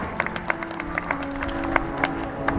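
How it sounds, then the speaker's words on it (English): A small audience at an Independence Day celebration claps for the chief guest, with sparse, fairly regular claps over a murmuring room rather than a loud ovation. "A loud round of applause for our chief guest"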